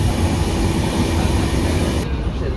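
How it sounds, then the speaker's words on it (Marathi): Passenger train pulling away after departure, heard from on board as a loud, steady low rumble and rattle of the carriage that continues unbroken, with the brighter upper noise dropping away abruptly near the end. "आता ट्रेन सुटलेली आहे"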